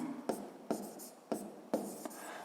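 A pen scratches out a number during a fifth-grade math exercise: four short, crisp strokes on paper, close and quiet, with faint scratching between them.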